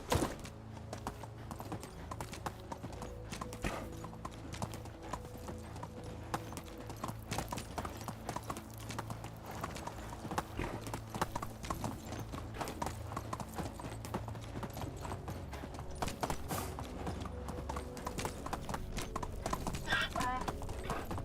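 Horse hooves clip-clop in a steady, continuous rhythm while riding in the Medieval Dynasty video game, with a faint whinny and occasional quiet talk over the gait.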